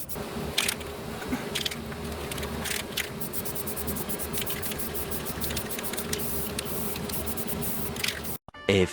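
Clear coat sprays onto a mini bike frame in short, repeated hissing bursts from an aerosol can, each only a moment long, close by and moderately loud in a quiet room.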